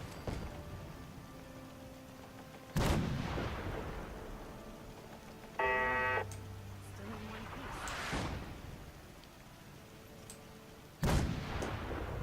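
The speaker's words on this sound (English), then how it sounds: "noted how that artillery smoke grenade went" Heavy artillery fire in Fallout during a castle defense alongside Minutemen, with loud booming blasts at irregular intervals, each trailing into a long rumble, and a shorter burst in between.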